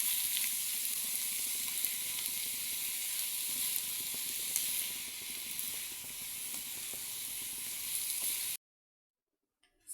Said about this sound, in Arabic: هلا بضل عم قلبهم مع البصل وزيت الزيتون